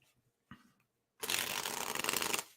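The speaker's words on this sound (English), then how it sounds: "One more shuffle and we should be good." Tarot cards shuffled in one dense, continuous riffle lasting just over a second, close and fairly loud, after a brief soft tap.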